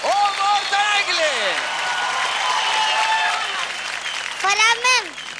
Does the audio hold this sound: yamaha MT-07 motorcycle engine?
no